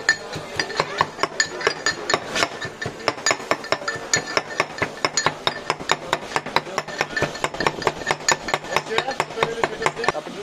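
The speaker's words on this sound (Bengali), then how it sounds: "ভর্তাটা প্রথমে পেঁয়াজটাকে একটু ছেঁচে নিব" Sharp repeated pounding as onion is crushed for hilsa bharta by the Padma river at Mawa Ghat, a fast, fairly regular series of hard clinking knocks, close and loud throughout.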